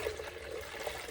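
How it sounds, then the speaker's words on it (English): Kool-Aid pickle juice pours off a jar of whole pickles in a steady, soft liquid stream, low in level with no speech over it. "I'm going to go ahead and pour the juice off."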